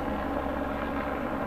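A helicopter hovering and circling above a house gives a steady, continuous rotor and engine drone, moderately loud and unbroken for the short stretch with no talk.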